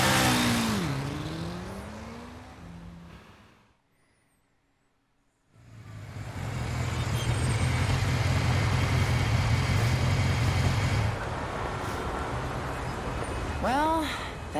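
A car in the 13 Sentinels: Aegis Rim video game roars at full throttle in a loud, sustained engine drone, with a sweeping rev at the start and another near the end, broken by a brief silent gap.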